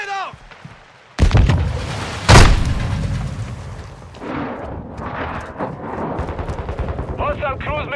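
Gunfire and booming explosions during a team deathmatch in a first-person shooter video game, a sharp blast followed by another heavy boom, then rumbling and rapid shots, with in-game voice callouts over the top.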